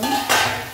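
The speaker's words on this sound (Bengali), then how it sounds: "ঢাকনাটা সরিয়ে দিলাম।" A metal lid lifted off a cooking pot on the stove, one short clank and scrape of metal partway through, close and clear over faint kitchen background.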